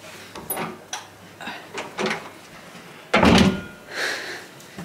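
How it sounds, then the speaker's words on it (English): Indoor door being shut during a dining room clear-out, heard as several separate knocks and thuds with one loud slam-like impact near the middle, close by and with no talk. "You're gonna shut the door because you're Pete."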